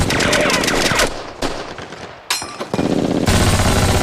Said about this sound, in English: It's just the sounds of gunfire and soldiers.